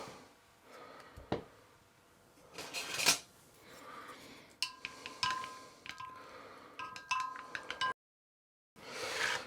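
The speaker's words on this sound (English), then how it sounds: "Just going to quickly dissolve the stock pot" A spoon clinks and scrapes against a pot while stirring to dissolve a stock pot for a chicken casserole, with intermittent sharp metallic taps and rattles, close and moderately loud, broken by a short silence.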